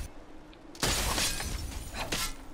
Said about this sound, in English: it makes a icicle type sound, as though you're shattering ice